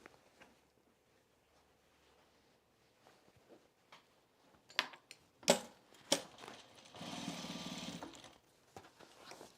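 A sewing machine stitches fabric booties, with a few soft handling clicks and taps leading into a couple of sharp knocks, then a steady run of stitching near the end, fairly quiet overall.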